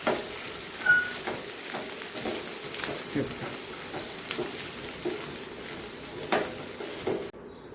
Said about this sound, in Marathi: चिरलेला उभा चिरलेला बटाटा आता याला छान आपण तेलावरच छान परतून घ्यायचं